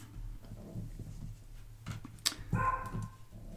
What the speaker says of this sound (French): je vais acheter un collier anti-aboiement où il s'électrocute chaque fois qu'ils aboient